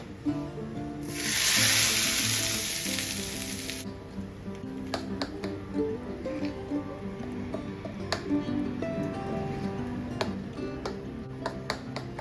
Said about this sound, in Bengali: ফোড়ন দেব শুকনো লঙ্কা দিয়ে শস্য দেব ডাল ও উড়াদ ডাল কারি পাতা একদম রেডি এবার দিয়ে দিচ্ছি